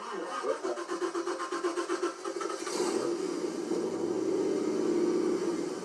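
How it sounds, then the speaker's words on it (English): A Ford Cobra race car engine is started: the starter cranks rhythmically for about two seconds, then the engine fires and settles into a loud, steady rumbling idle close by. "Go ahead, fire this bad boy."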